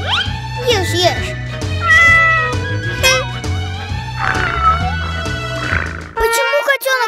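A kitten meows several times, high and wavering, over looping background music in an animated children's story, with a brief clatter near the end.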